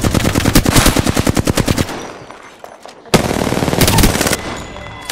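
Automatic gunfire in Apex Legends: a loud rapid burst of close shots, a brief lull, then another sustained burst of fire.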